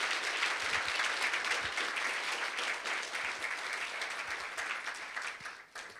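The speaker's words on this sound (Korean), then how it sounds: "여러분들 심찬 박수 한번 부탁드리겠습니다" Hearty applause from an audience of successful candidates at a claims-adjuster exam celebration meetup, a dense continuous roar of clapping that stays full throughout and dips only in the last moment.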